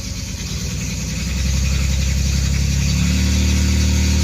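A 1989 Chevrolet Celebrity's 2.8 V6, in gear with a misfire, revs up steadily under a little throttle, its low rumble growing louder and smoother over a few seconds with a faint rattle and no talk.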